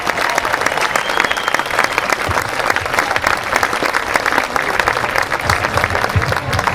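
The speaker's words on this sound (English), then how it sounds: "Let's give him a round of applause for helping us out." A crowd at a high school marching band preview event applauds a presentation with loud, steady, dense clapping that carries on without a break from start to finish.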